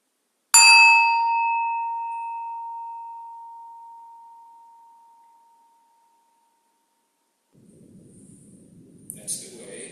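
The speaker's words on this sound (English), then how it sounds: "If you listen to the sound of the bell" A single bell is struck once near the microphone during a Buddhist talk, giving a bright attack and a long pure ringing tone that slowly fades over about five seconds, followed by quiet room sound and a soft rustle.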